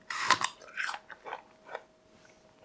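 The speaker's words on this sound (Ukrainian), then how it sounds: "Ви чуєте звук, коли я жую яблуко?" A crisp apple is bitten and chewed up close, with a loud first crunch followed by a series of smaller crunchy chews that fade in strength, no talking.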